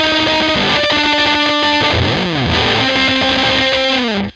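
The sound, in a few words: distorted guitar playing the outro of a song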